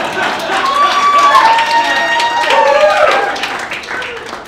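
Guests at a rehearsal dinner burst into sustained applause and cheering, a loud, dense wash of clapping that swells and holds for several seconds with whoops and crowd voices mixed in.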